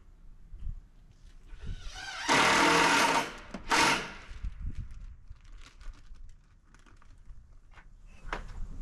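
A screw gun drives screws into metal roof sheets on a barndominium lean-to, worked from a lift bucket. Two loud, close whirring bursts, the first longer, then a shorter one, over faint background noise.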